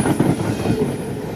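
A freight train rolls past at Nortonville, Kentucky, with a loud, close, continuous roar of wagons and rattling wheels and a faint high squeal from the rails.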